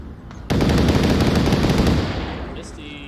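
Gunfire in the Onward VR shooter game, a sudden loud burst of rapid automatic shots lasting about a second and a half and then fading, heard alone.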